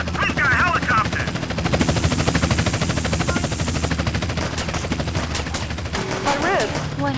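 Steady police helicopter rotor chop in GTA San Andreas with bursts of gunfire and booms, loud and continuous, with voices and game sounds layered over it.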